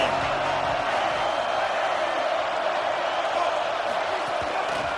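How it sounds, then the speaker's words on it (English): A stadium crowd in a college football video game roars steadily and loudly throughout, a dense continuous wall of cheering with no pauses. "This crowd ready to make its presence known."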